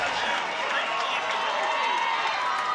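A football stadium crowd roars after a big play in a close game, a dense, steady wall of cheering noise that holds evenly throughout without a break.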